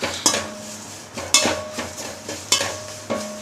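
Curry leaves are dry-roasted and stirred in a pan over low heat for sambar powder, with four sharp metallic clanks of the spoon against the pan, each trailing a short ringing scrape, all close and with no talk.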